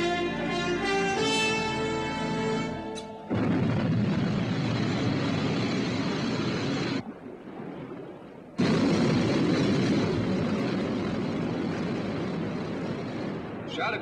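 Sky One aircraft lifts off from the Skydiver submarine in the TV series UFO, starting with rising tonal whines and then a loud, roaring thrust. The roar cuts to a brief lull, then returns at full power to the end.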